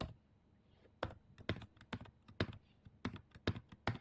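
Someone typing an Excel keyboard shortcut (Alt, H, O) on a computer keyboard: about ten crisp, close key clicks in an irregular rhythm, quiet, with no talking.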